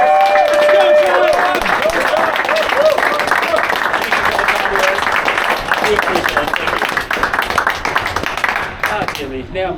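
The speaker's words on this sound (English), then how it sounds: "So I just wanted to give a round of applause to John" Applause and cheering break out at a team league finals award ceremony as an organizer named John is honored, a loud dense clapping crowd with shouts mixed in, tapering off toward the end.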